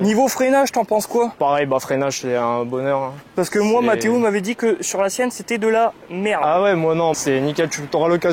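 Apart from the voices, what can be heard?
No everyday noises stand out.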